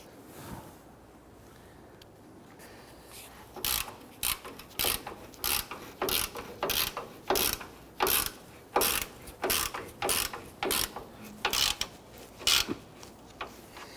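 Ratchet wrench clicking in a fast, steady series of bursts as a bolt is threaded into a sway bar bushing bracket on a 2005-2021 Nissan Frontier, close and distinct after a quiet start.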